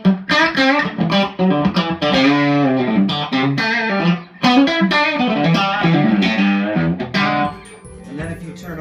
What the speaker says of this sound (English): if you turn up the master all the way, it should keep the same level of distortion, but it's just really loud